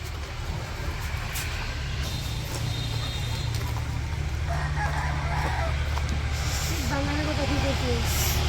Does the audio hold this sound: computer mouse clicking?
no